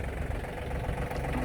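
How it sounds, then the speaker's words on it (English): A John Deere tractor idles nearby with a steady, low, rough engine drone during work transplanting an evergreen tree. "I'm gonna drop the bucket here on the tractor"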